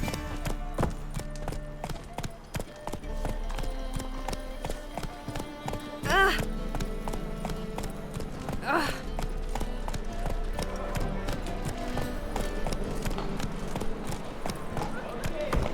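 Hooves of a horse in The Witcher 3 clip-clopping in a quick steady rhythm throughout, mixed with game ambience, occasional louder effects and people talking.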